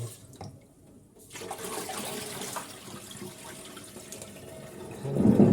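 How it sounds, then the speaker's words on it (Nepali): Water runs from a hot water tap in Japan into a sink as a steady, fairly quiet stream, with a brief louder gush near the end. "तातो पानी पनि फेरि सुरुमा चलाउँदा चिसै आउँछ। 2-3 चोटि घुमाउनु पर्छ।"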